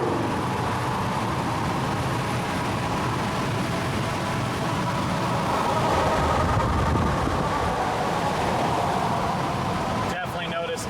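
A 2021 GMC Duramax diesel pickup truck accelerating on a main road, heard from inside the cab as a steady, loud engine and road roar that swells slightly midway before easing near the end.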